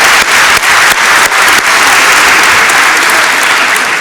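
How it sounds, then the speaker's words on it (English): Enthusiastic round of audience applause at an annual meeting, loud and sustained clapping from a large crowd with a few sharp claps standing out at the start, no talking over it. "Let's have a round of applause."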